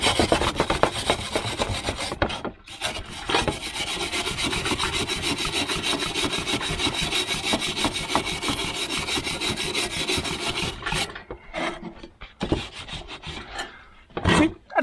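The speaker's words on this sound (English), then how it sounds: "I'm gonna get a wire brush and I can probably clean that up a little more." A wire brush scrubs a fresh torch weld clean in steady, loud back-and-forth rasping strokes that run for about ten seconds, then break into a few short separate scrubs.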